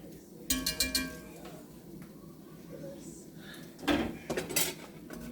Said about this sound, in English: Just enough so there's enough oil that you can mix up that flour.